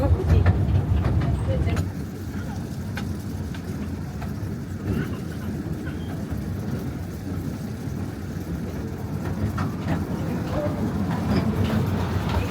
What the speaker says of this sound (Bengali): ট্রেন চলছে, আমরাও চলছি সাথে। বেশ জঙ্গলের মধ্যে দিয়ে ট্রেনটা চলছে